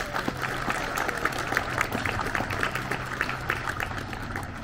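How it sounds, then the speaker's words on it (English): Crowd at a riverfront grand opening in Miamisburg applauds the design team, crisp individual claps scattered over a moderate wash of clapping with a low steady hum underneath. "let's give them a round of applause."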